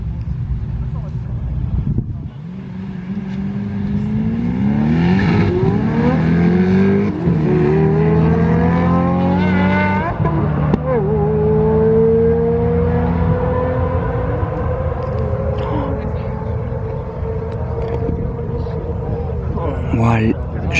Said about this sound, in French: on va avoir droit à deux voitures qui font un bruit de taré, les deux, mais qui n'ont rien à voir